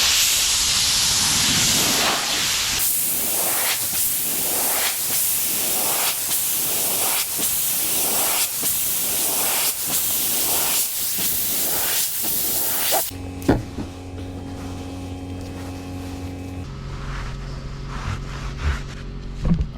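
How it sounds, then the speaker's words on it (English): A hose sprays water onto old barn-find Impala car parts, making a loud hissing spray that pulses in repeated sweeps for about thirteen seconds. It then cuts off into quieter clinks and handling sounds. "I'm gonna get the hose really quick."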